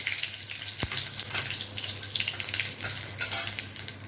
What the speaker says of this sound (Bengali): তেলটা একদম গরম হয়ে গেছে দিয়ে দিলাম তেজপাতা আর দিয়ে দিলাম গোটা জিরে